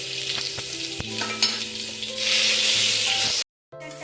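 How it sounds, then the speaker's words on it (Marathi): Tempering of mustard seeds, cumin, garlic-ginger paste and chili sizzles in hot oil inside a pressure cooker, a crackling hiss that swells louder midway, breaks off briefly, then resumes, with faint tonal clinks and no speech. "आता आपण वरणाला फोडणी देऊ."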